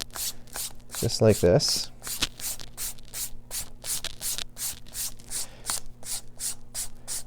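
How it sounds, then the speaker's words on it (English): Repeated one-directional sanding strokes along the edge of a leather belt strap held taut, a steady rhythmic rasp of short scrapes, close and fairly loud, with a brief stretch of speech early on. "And we're just going to sand it in one direction,"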